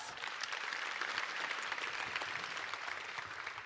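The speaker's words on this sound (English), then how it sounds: "Please give them another well-deserved round of applause." Audience members at a tech summit give performers a round of applause, a faint, even wash of many hands clapping that continues steadily throughout without pause.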